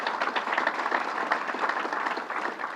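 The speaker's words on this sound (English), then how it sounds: "Let's give him a round of applause." Audience applause at a public announcement at Syracuse Hancock International Airport, a steady, dense crowd clapping that holds for the full stretch without a break.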